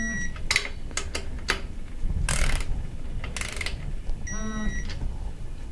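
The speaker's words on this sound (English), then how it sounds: "since we can get a socket on these two, we're going to go ahead and torque them at this time." Sharp clicking bursts from a socket wrench torquing the bolts on a Suzuki Samurai extreme-duty transfer case cradle, several separate mechanical clicks and ratchet rasps spaced irregularly over steady background noise, with no talking.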